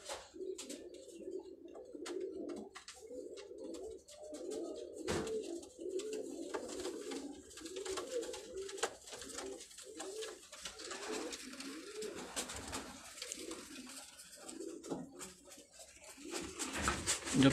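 Fancy dabbed and pearl-marked pigeons kept by a Karachi pigeon fancier coo continuously in soft repeated throaty rolls, several birds overlapping at moderate distance, with faint background chirps.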